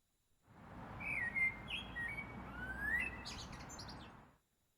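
Blackbird song recorded near a campus front entrance: a run of clear whistled phrases and chirps over steady background noise, fairly close and moderately loud, with no talking.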